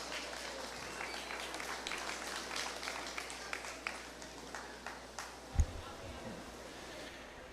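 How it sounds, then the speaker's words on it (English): Crowd applause for young exhibitors at a market and breeding beef cattle show, a steady, fairly faint wash of clapping with a few sharper claps and a thump near the end. "Let's give these exhibitors a round of applause"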